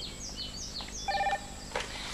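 An electronic telephone rings with a few short warbling tones in a quiet room, the chirps repeating briefly and fairly close.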